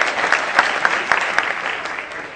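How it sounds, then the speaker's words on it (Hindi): Loud, steady applause from an audience at a comedy poetry evening celebrating Maharaja Agrasen Jayanti, honouring a guest, with dense clapping and a few sharper claps standing out throughout. "एक बार अग्रवाल जी के लिए जोरदार तालियां बजाइए"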